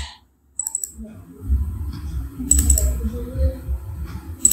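Computer mouse clicks during work in QGIS, a few sharp isolated clicks near the start and end over a soft, steady low rumble of room noise, no speech.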